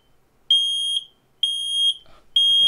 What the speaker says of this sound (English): Somebody's doing some cooking downstairs and they set up the fire alarm